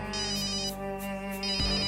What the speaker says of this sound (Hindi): देख किसका फोन है?